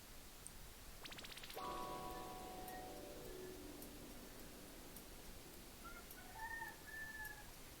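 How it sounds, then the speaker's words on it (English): A rooster crows once, a drawn-out call fading in pitch, fairly faint against steady background hiss, with a few distant bird chirps afterward. "Yep, that's one really close rooster."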